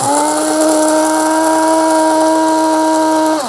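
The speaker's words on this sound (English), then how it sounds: "the longer you press it, the finer the grind. So let's just press" A Hamilton Beach Fresh Grind electric coffee bean grinder runs on coffee beans in one steady, loud, high-pitched whine that holds for about three seconds before winding down, close by with no talk.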